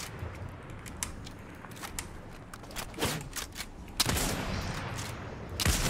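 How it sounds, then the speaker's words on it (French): Gunfire in the Fortnite video game during a normal match, scattered shots and short bursts at varying distances, some near and loud, others faint, with no talk. "Ça tire là où je suis."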